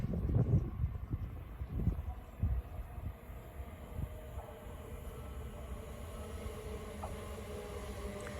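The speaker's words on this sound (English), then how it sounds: "Arriving now is the 11:53 Great Western Railway service from Dikkot Parkway to London Paddington." A Great Western Railway train pulls into Pangbourne station with a low rumbling roar that is loudest at first, then settles into a steady hum with faint tonal whines and clanks.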